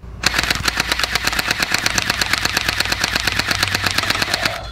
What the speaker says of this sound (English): First up with the submachine gun is the accuracy test from 10 feet away.